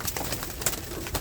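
Domestic pigeon-like birds coo in soft, repeated low calls, fairly close and steady over a faint noisy background.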